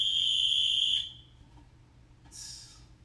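A loud, shrill whistle blast holds a steady high tone for about a second, then cuts off; a fainter, breathy high burst follows near the end over low background rumble.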